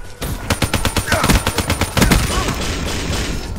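Hostile Talon drone firing in Call of Duty: Black Ops 3, heard as a rapid, evenly spaced burst of automatic shots near and loud for about two seconds, then dense continuous game noise underneath.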